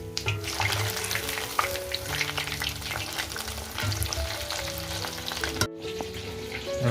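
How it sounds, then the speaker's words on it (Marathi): Prawns sizzling in a hot pan as they are tossed and mixed together, a busy crackle with clattering stirs and faint background tones, cutting off briefly near the end before resuming. "सगळ्या कोळंब्या आता टाकूनच घेतोय पूर्ण एकत्र करून घेतोय"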